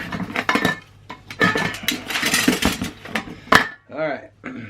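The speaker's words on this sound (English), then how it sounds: "I got another stove." Metal camping stove and its lids clinking and clattering as they are handled and set up, a run of close, bright knocks and rattles with a few sharper clinks near the end.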